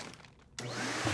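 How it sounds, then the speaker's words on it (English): A vacuum cleaner fitted to a bag's nozzle switches on partway through, jumping from quiet room tone to a loud, steady whooshing roar as it draws air out of a pillow bag. "The vacuum is sucking all the air out of the bag"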